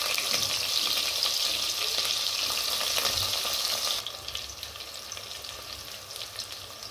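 Chopped onion sizzling in hot oil with mustard seeds in a kadhai, a steady loud frying hiss that drops to a quieter crackle partway through, no voices.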